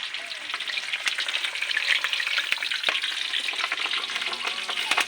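Chili frying in a hot pan gives a steady, close sizzle with bright crackling pops throughout, alone with no voices.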